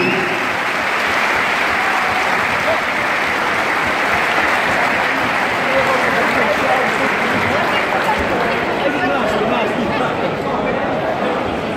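Sustained, dense applause from a crowd at a homecoming celebration honoring Paralympian Evelyn van Leeuwen, steady and loud throughout with a murmur of chatter beneath.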